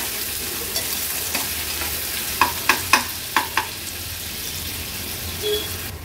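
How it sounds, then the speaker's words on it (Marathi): Chopped onion and green chillies frying in oil over a low flame, a continuous gentle sizzle broken by a quick run of sharp spoon taps against the pan midway, no speech. "कांदा आता आपण शिजवून घ्यायचा आहे। गॅसची फ्लेम लोवर ठेवते।"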